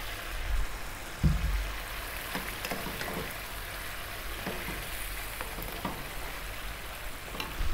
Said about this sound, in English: Now we're going to drop back in the green beans that we just fried.